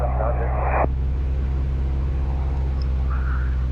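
Socata TB10 light aircraft engine held at a steady 2000 RPM run-up, a loud, constant droning rumble with a brief broadband burst at the start.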